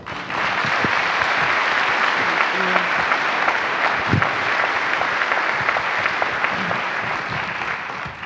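Sustained applause from an audience at a NASA crew announcement event, dense steady clapping filling the room at even loudness for several seconds.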